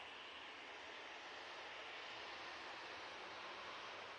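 Engines of a Jet2 Airbus A321ceo airliner at Manchester Airport give a steady, broad roar that holds even throughout, distant and faint with no talk over it.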